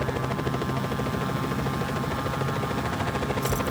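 A helicopter in the Just Cause 4 video game drones with a steady, loud rotor thump and whine, continuous and close throughout.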